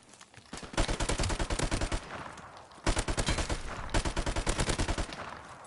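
An MP44 with no attachments fires in Call of Duty: loud, rapid automatic bursts, one running about a second and a half, a short pause, then a longer sustained string of shots.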